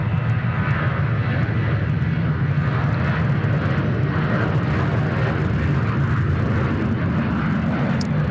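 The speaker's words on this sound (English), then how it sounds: "Our first Rex 73 departure of the day." A Rex Boeing 737 departs Sydney Airport, its engine roar heavy and constant, a loud rumbling drone sustained across the whole stretch without speech.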